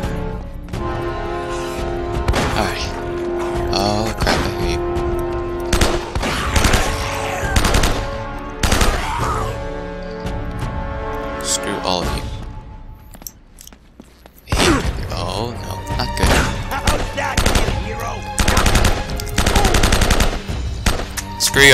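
Gunfire from the video game Uncharted: Drake's Fortune, with bursts of rapid automatic shots and single cracks mixed with game music, a brief lull near the middle, then dense firing resumes.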